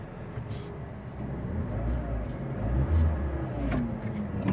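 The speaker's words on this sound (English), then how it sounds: "So we're going to take off, we're accelerating, but there's just nothing there." A Chery J1 car with a sudden loss of power pulls away under acceleration, its low engine drone and road rumble steady and subdued from inside the cabin, barely building in pitch as it strains without gaining speed.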